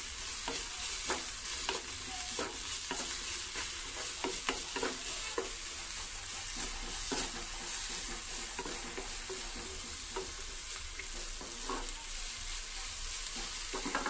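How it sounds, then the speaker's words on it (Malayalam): Onions and green chillies fry in a pan on a medium flame, a continuous close sizzle broken by frequent rhythmic scraping strokes of a spatula, with no voices. "മീഡിയം ഫ്ലെയിമിൽ നന്നായിട്ട് വഴന്ന് വരുന്നവരെ നമുക്ക് വെയിറ്റ് ചെയ്യാം"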